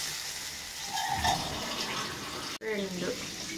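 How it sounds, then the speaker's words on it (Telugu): Water is poured from a glass into a cooking pot for jowar rava upma, a gushing splash that swells briefly, then continues after a short break, while someone speaks over it. "ఒక గ్లాసుకు 3 గ్లాసులు పోసుకున్నా"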